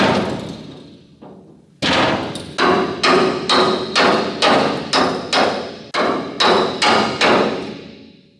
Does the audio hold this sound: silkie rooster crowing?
no